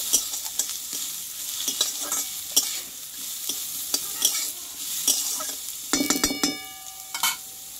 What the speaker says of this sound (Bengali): এবার কেটে রাখা গাজরগুলোকে দিয়ে দেব। আলু আর গাজরটা একটু ভালোভাবে কষিয়ে নেব।